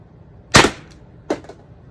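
Two sharp shots from a Pepperball TCP launcher firing Grimburg JUL rounds at a metal target, each a loud crisp crack with a short ringing tail, the second slightly softer, in an otherwise quiet outdoor setting.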